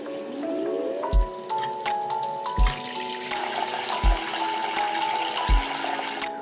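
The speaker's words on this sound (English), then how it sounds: "So first you just want to fill up your sink with kind of warm water." Warm tap water filling a sink for washing toys, a steady close rushing stream with gurgling and rising tones, punctuated by regular low thumps about every second and a half.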